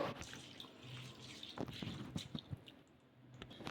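Soaking water is drained off soaked ingredients, giving a faint, close trickle with small splashes and drips in a quiet kitchen.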